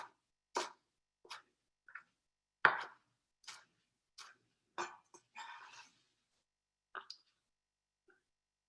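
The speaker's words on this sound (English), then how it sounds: "This one's a little bit messier to chop up" A knife chops fresh cilantro on a cutting board in a home kitchen, giving about a dozen sharp, irregular thuds close by, with a short rustling scrape in the middle and a quiet pause near the end.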